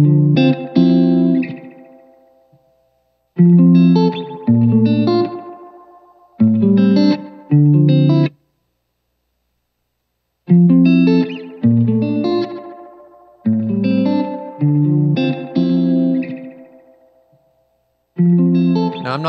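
Electric guitar through an effects pedal whose settings are changed in the Neuro 3 editor, playing strummed chords in loud bursts with short silent gaps, the tone thick with distortion and chorus.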